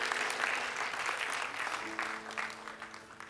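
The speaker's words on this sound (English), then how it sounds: "give God a hand clap of praise this morning" A church congregation claps hands in praise during a Sunday morning service, a dense, steady wash of applause with faint voices and organ-like tones underneath, fading slightly toward the end.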